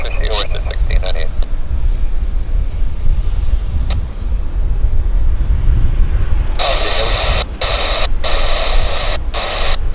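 WestJet airliner Flight 1698 from Calgary landing at Vancouver Airport, a steady broad jet roar with wind noise throughout, joined in the later seconds by bursts of radio chatter.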